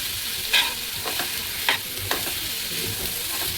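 Eggplant and potato pieces frying in a small amount of oil, a soft steady sizzle broken by a few sharp scrapes of a spatula stirring the pan, with no speech.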